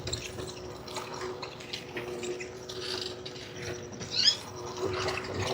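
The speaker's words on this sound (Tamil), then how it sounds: "இரவு கொஞ்சம் மழையால் பாருங்க எப்படி வெள்ளம் ஓடிக்கொண்டிருக்குண்டு" Floodwater running beside paddy fields in Kokkuvil after a night of rain, a steady low wash of flowing water with faint trickles and drips, continuous and fairly quiet, no voices.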